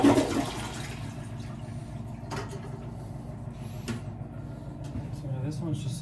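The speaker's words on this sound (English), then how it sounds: "Try to flush the toilet." Household toilet being flushed in a bathroom during shower demolition work, a rushing water swirl that starts strongly and fades into quieter trickling and refill noise, with faint bumps.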